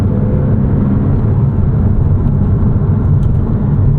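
A 2006 Porsche Cayman S with its 3.4-liter engine drives over a very rough road, giving a steady, loud low rumble and road roar with the engine note buried beneath the tyre and cabin noise.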